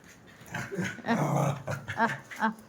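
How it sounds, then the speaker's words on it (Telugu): Dogs growl and yip in short irregular bursts, close and moderately loud, with whimpering rises between the growls. "వాడిప్పుడు వెనక కుక్కలు అరుస్తున్నాయి"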